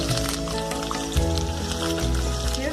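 Onion and ginger paste sizzles in hot ghee in a medium-sized pan on low flame, giving a steady, close frying crackle. A low tonal hum runs underneath, and no one speaks.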